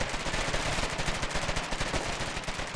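Dense, continuous video-game gunfire from a trench battle in a war game, rapid machine-gun bursts and overlapping shots filling the whole stretch at high loudness with no pauses.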